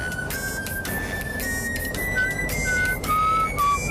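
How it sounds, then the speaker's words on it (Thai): A man idly whistles a wandering tune in a scene from a Thai TV drama, a thin, fairly loud melody that rises and dips over a steady noisy background, with no speech. "เวลาอารมณ์ดีๆขึ้นมานะก็ผิวปากไปเรื่อยเปื่อย"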